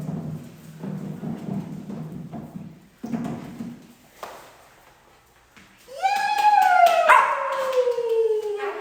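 Dogs at a group training session, with a whine rising and a drawn-out howl taking over near the end after several seconds of murmuring voices and quieter stretches. The howl is loud and close.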